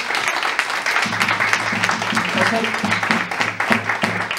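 Audience applause closing a live music show, a steady broadband patter of many hands throughout, with a voice speaking over it and a low sustained musical tone underneath.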